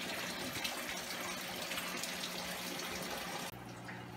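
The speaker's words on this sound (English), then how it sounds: "And now it's time to add water." Water pours steadily into a planted aquarium tank with a backyard dirt substrate, a continuous gushing fill that stays even and close, then abruptly drops in level near the end as the flow changes.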